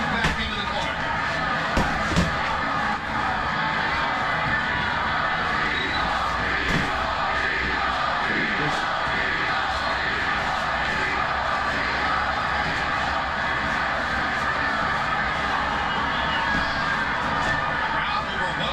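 Arena crowd at a boxing match between Trinidad and Hopkins roars and chants in sustained, dense cheering, with a commentator talking over the noise.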